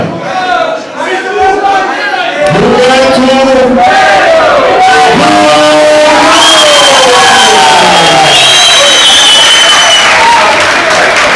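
A crowd at a boxing match applauds and cheers loudly and steadily while an announcer talks over the noise.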